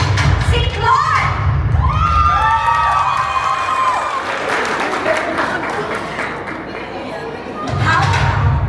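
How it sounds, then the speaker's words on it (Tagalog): A studio audience on a Filipino TV variety show claps and cheers for Clark: dense, steady crowd applause and shouting that fills the whole stretch, swelling again near the end, with a host's voice talking over it. "Palakpakan at sigawan."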